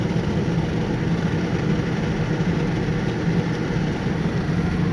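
Inside a car heading north on Route 19 in Mississippi, a steady low road and engine rumble drones on unbroken, loud and close, with no voices.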